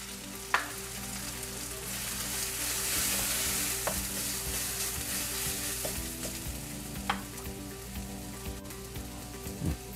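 A ground paste of coconut and green chili fries in a hot pan while being stirred: a continuous gentle sizzle with occasional clinks and scrapes of the spoon against the pan, close by, with nobody talking.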